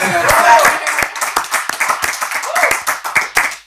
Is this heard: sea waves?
no